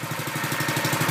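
A Honda engine on a Troy-Bilt Pro-Line FRT tiller running just after a cold start, with a steady, loud, close putter carrying a fast regular pulse and no talking.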